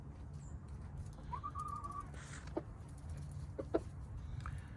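Gamefowl chickens give faint, sparse clucks and a short call over a low, steady background hum.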